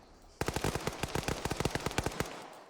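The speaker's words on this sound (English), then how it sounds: "So some gunfights as Yanni Lurch giving some gunshots because he's also stuck in the aircraft carrier" Rapid automatic gunfire in the video game Arma 3 on a beached aircraft carrier deck: a sudden loud burst of sharp, closely spaced shots rattling for about two seconds, alone without talk.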